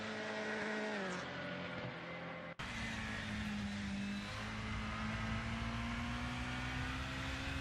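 Race cars roar continuously down the straight at Paul Ricard in Assetto Corsa, British Touring Car Championship machines including a Volvo and a BMW, with a steady engine drone that briefly cuts out before resuming loud and close.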